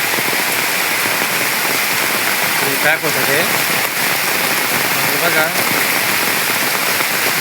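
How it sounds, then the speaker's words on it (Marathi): Heavy monsoon rain pours down in Konkan, Raigad, a dense, constant hiss of rain and rushing water that fills the whole stretch, with someone talking briefly over it. "हा बघा पावसाचा इकडे प्रेशर बघा"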